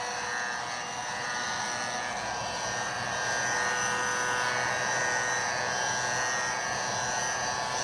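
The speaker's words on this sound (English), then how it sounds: "Especially with a heat gun, don't get too close to that leather." A heat gun blows steadily over a freshly repaired car leather seat, giving a continuous whooshing electric drone with a faint whine that swells slightly partway through, close and unbroken, without voices.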